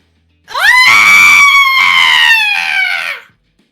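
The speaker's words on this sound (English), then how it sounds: "I would like to hear the scream." Long, loud scream sound effect played during a Dungeons & Dragons session, a single sustained high-pitched shriek lasting about three seconds with no talk over it.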